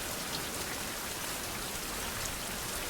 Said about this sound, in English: it's raining, so no more torch